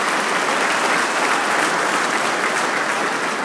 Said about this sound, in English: Let's give a nice round of applause to those firefighters and police officers.